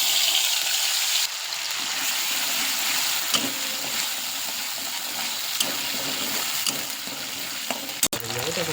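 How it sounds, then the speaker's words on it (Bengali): Whole cumin seeds crackle and sizzle in hot oil alongside fried pabda fish, a steady dense hiss running throughout with occasional sharper pops and a brief stir near the end. "এবার মাছটা তেলে গোটা জিরে ফোড়ন দিয়েছি"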